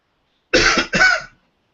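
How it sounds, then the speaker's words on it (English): Two quick, harsh coughs close to the microphone, back to back, then silence. "I still have this cough."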